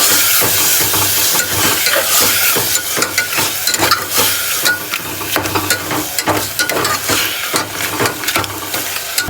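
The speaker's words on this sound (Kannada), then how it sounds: "ಗೈಸ್ ಇದನ್ನು ಚೆಂದಾಗಿ ಫ್ರೈ ಮಾಡ್ಕೋಬೇಕು." Chili powder frying in hot oil in a pan for tomato bath, a loud, dense sizzle with rhythmic stirring scrapes throughout, close up and without speech.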